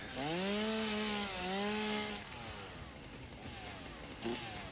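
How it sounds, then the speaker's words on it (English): A chainsaw cuts wood in the video game Satisfactory, giving a steady, buzzing engine whine whose pitch dips and bends, then fades into a rougher hiss with a brief flare near the end. "That's why Molly really doesn't like the chainsaw."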